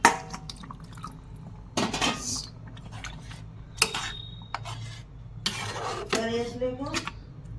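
Water is poured into a pan of pav bhaji vegetables, with splashing and sizzling bursts mixed with clinks of a metal utensil against the pan in a home kitchen.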